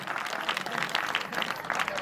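An audience at a school gathering claps together in dense, continuous applause that holds steady and moderately loud through the short stretch, with no pauses.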